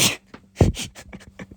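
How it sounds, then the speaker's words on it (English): A single sharp human sneeze bursts out loud and close, followed by a few faint scattered sounds and low murmurs in a quiet room. "was a sneeze, by the way"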